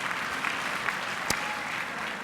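An audience at an autumn graduation ceremony claps for the graduating students, a soft, even patter of many hands at moderate distance, with one sharp louder clap standing out partway through.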